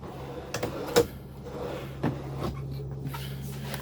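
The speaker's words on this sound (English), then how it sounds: "And then another drawer right over here." Drawer in a Roadtrek SS Agile camper van being pulled open, a few close knocks and a sliding rattle at moderate loudness, no talk.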